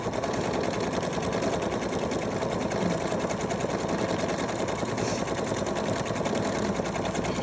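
A PFAFF creative 4.5 embroidery and sewing machine runs a stacking stitch, giving a steady, rapid, close-up mechanical chatter of needle strokes that continues evenly throughout with no talking.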